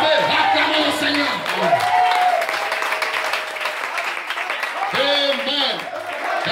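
A church congregation applauds and cheers loudly and continuously, with raised voices and shouted acclamations riding over the dense clapping throughout.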